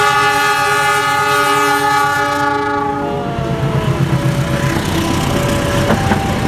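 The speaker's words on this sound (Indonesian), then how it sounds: "kereta api Argo Wilis melintas dengan kecepatan sedang di JPL Sahungangua Braga" Argo Wilis passenger train passing a level crossing at moderate speed in Indonesia, opening with a loud sustained multi-tone horn that stops partway, then a steady roar of wheels and rumbling carriages rushing by close up.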